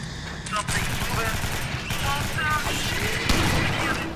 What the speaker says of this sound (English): Wow, it sounds like the Halo shotgun.